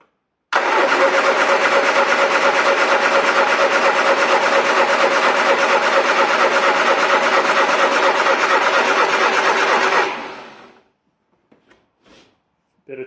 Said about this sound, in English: So I'm going to crank it and it's going to fire up pretty quickly